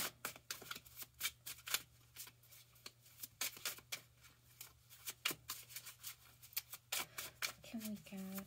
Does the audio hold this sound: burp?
no